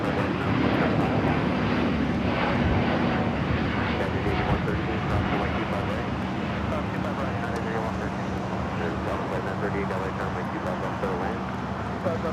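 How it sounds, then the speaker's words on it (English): Delta Airbus A350-900 taking off at LAX, a sustained loud jet roar with a low engine hum running beneath it, while voices talk over it. "We got that Delta A350-900 heading to Atlanta. Next takeoff."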